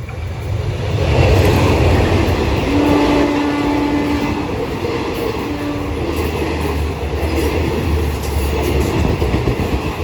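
Passenger train No. 86 runs through a station in Thailand, a loud, steady rumble of wheels and carriages rolling past continuously with a brief horn-like tone partway through; no speech.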